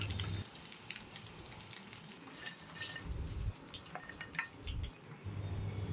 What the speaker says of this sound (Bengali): এই একইভাবে বাকি ফিশ ফিঙ্গারগুলো হাফ ফ্রাই করে তুলে নেব।